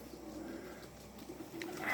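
Soft, low pigeon cooing murmurs steadily in a quiet room, with faint background hiss and a brief brighter chirp near the end.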